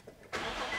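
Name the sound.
Nissan/Infiniti car engine starting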